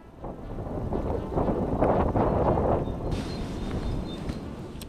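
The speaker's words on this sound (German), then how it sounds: "An den Windgeräuschen kann man schon gut hören, wie stürmisch es an diesem Tag war." Stormy wind buffets the microphone outdoors at the Zieverich mill, a loud, continuous rushing roar that swells through the middle and keeps gusting to the end.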